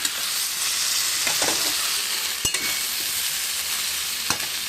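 Onion- and garlic-free vegetarian curry sizzles steadily in a pan while being stirred, a constant frying hiss broken by a few sharp scrapes and taps of a spoon against the pan.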